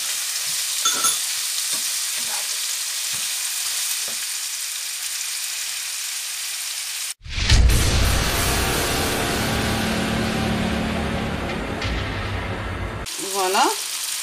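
After a quiet, faint opening, cumin and curry spices hit a hot pan with a sudden loud sizzle that holds steady for several seconds, then cuts off abruptly near the end.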